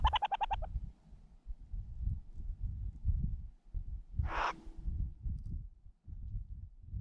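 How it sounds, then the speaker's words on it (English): A male and female burrowing owl at their burrow during courtship give a short harmonic call at the start and a brief raspy burst midway, heard close over low rumbling background noise. "We discovered this male and female burrowing owl occupying the burrow were actually in the midst of their courtship and mating phase."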